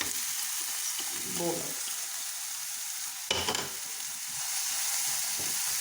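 Moong sprouts cook in a pan with a soft, continuous sizzle, broken near the middle by a short clatter of a spoon stirring. A single brief spoken word comes early.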